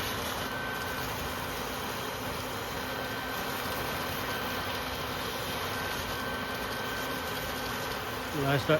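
A honey bee swarm buzzes in a dense, steady drone that stays even throughout, with a few muffled knocks near the end.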